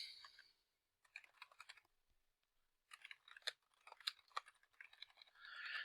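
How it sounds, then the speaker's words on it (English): Close, quiet typing on a keyboard in quick bursts of clicks, separated by short pauses. "Let's say you're typing along"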